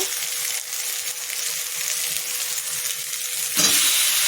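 Spice paste frying in hot oil in a pan for a Bengali fish and kochu curry, giving a steady, bright, close sizzle with a brief louder surge near the end and no talk.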